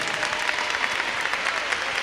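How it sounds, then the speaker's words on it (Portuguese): Congregation applauding a young person during a Mass for Saints Peter and Paul, a steady, dense round of clapping filling a large church, continuous and even from start to finish with no talk over it. "Uma salva de palmas para você, jovem."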